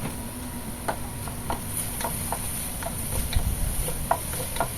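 Thinly sliced pork frying in its own rendered fat in a pan, a low steady sizzle with light scraping taps of a utensil stirring at irregular intervals, close and fairly quiet.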